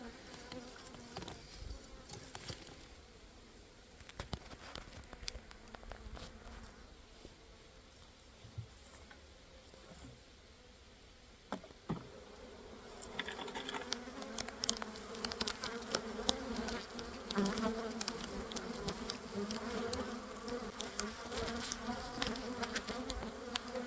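Honeybees hum steadily in a droning swarm around a hive, quiet at first and growing fuller and louder partway through, with occasional close buzzing passes.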